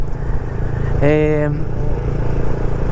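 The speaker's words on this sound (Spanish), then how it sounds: "Dio el ancho la motocicleta" A motorcycle engine strains up a steep climb on the road to Pénjamo, a constant close, loud drone with a brief rising rev partway through.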